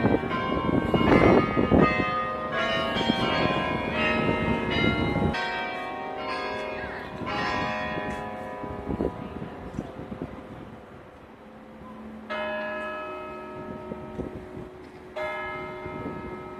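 Church bells ring out at a large church in the Netherlands, several bells striking in overlapping sequence with long sustained tones that hum between strikes, moderately near and steady in the open air with some wind noise.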